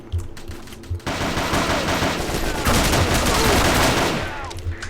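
Rapid SMG and pistol fire from the online shooter game Operation 7 rattles in a dense, sustained volley, loud and close, after a few isolated shots at the start.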